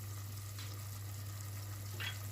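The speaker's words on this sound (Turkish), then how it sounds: "Bu şekilde karıştırıyorum" A tarhana mixture with tomato and mint simmers in a pot as it is stirred, giving a faint steady sizzle with a low hum and two soft stirring scrapes.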